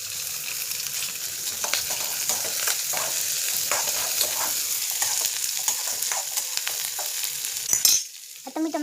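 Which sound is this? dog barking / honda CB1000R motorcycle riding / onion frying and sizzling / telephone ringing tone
onion frying and sizzling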